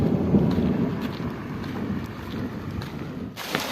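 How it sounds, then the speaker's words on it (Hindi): Steady rain falling onto a road outdoors in rural Pakistan near wheat fields, a continuous dense hiss with a low rumble underneath and faint wind, with no voices. "इतनी सी बारिश आ रही है अभी"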